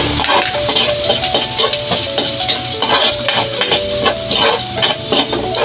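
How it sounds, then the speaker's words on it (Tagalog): Garlic sizzles and crackles in hot oil in a pan, a dense, steady frying hiss close by, broken by a spatula stirring and scraping throughout. "Lagay na natin yung ating bawang."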